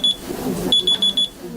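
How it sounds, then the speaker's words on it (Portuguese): An alarm clock rings loudly and close with a quick run of high electronic beeps, a short pause, then a steady series of about five more beeps. "Não tem despertador que tire a Aline da cama."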